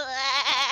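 A person imitates a goat's bleat during a tabletop game session, a single loud, wavering nasal bleat held for under a second, close and alone.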